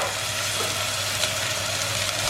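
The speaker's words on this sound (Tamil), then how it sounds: "இதை வந்து ஒரு 1 மினிட் போல் பச்சை வாடை போகிறதுக்கு தக்கன சாட்டே பண்ணிடலாம்" Ginger-garlic paste and spring onion sautéing in sesame oil for chicken ramen, a steady, even sizzle with no break and no talk.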